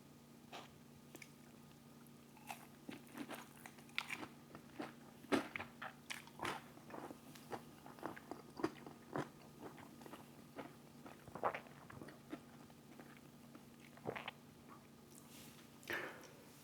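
Crunchy bites and steady chewing of spicy Wendy's Tendys chicken tenders, close and quiet, with scattered crisp crackles and soft squishy mouth sounds over a low room hum and no talking.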